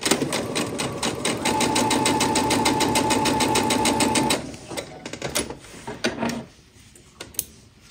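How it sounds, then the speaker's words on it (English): Sewing machine running a steady, fast straight stitch at stitch length 2 with a 1/4 inch foot through quilt fabric, a continuous close mechanical whir lasting about four seconds, then stopping with a few small clicks and handling noises. "I'm going to stitch at stitch length 2"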